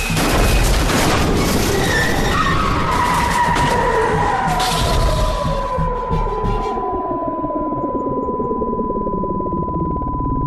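Crash of several racing vehicles at a qualifying race: a loud burst of skidding, scraping and booming impacts in the first seconds, fading into a long sustained ringing tone with a low throbbing underneath.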